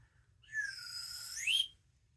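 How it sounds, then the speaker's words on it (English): A single slide whistle note, rising then dipping and sweeping upward again, clear and alone against near silence. "So this is what a slide whistle sounds like."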